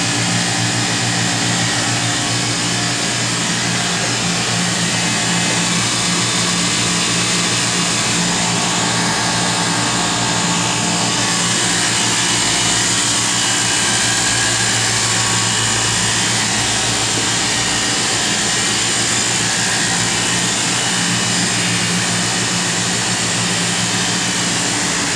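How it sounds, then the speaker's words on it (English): An Oxford Plasmalab 100 ICP etching system pumps its chamber down to base pressure, a loud continuous whine and hum of vacuum pumps with steady tonal drones, no voices. "It will pump the chamber back down to base pressure."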